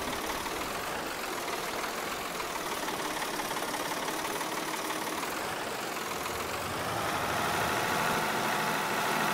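A tractor engine running steadily in Farming Simulator 22 while pulling a new plow, a continuous broadband mechanical rumble that grows slightly louder near the end, with no talking.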